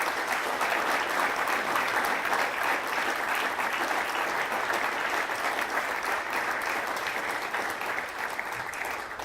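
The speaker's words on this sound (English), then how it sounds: "And I think this new logo deserves a good round of applause." A conference audience of economic developers breaks into a steady round of applause, thick and even clapping that carries on for several seconds and tapers slightly near the end, without speech.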